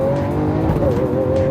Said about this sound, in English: I like to put the transmission into full manual Corsa mode, which is the most aggressive shift language, and then just pop it down a gear